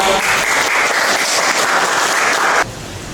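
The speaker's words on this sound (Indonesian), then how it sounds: "Oke, tepuk tangan buat." Classroom applause: a loud, dense burst of clapping from students that holds steady for over two seconds, then cuts off abruptly into quiet room tone.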